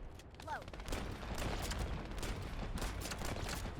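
Rapid gunfire in The First Descendant video game while players shoot at floating balls during a fight, dense continuous bursts of shots layered with game effects.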